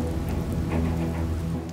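A heavy rainy-season downpour in Africa hisses steadily, a dense wash of rain with soft drop patter and a low rumble underneath.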